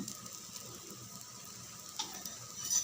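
A rava wheat dosa cooks in oil on a hot pan, giving a soft, even sizzle with a few light scraping clicks near the end and no voice.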